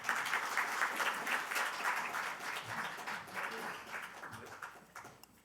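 A forum audience at the National Assembly gives warm applause welcoming the mayor of Suwon, many hands clapping steadily and gradually fading toward the end.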